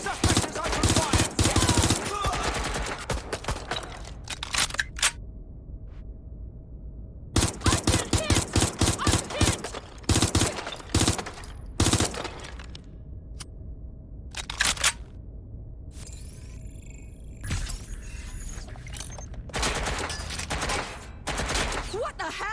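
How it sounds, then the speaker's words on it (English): Gunfire in the video game Watch Dogs: Legion, with loud bursts of rapid automatic shots in several clusters and short pauses between them, set against a steady game background. "Suspect is open fire!"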